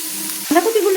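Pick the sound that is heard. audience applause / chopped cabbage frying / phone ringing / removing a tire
chopped cabbage frying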